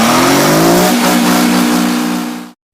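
A Detroit Diesel 71 engine roars loudly up close, its harsh metallic drone holding steady and then cutting off abruptly.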